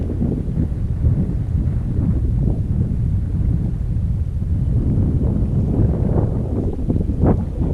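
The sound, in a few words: wind blowing while kayaking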